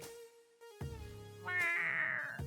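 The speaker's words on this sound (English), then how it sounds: "You're a fun cat." A cat meows several times in quick succession indoors during a podcast recording, clear tonal calls rising in pitch and loudness toward a longer final cry.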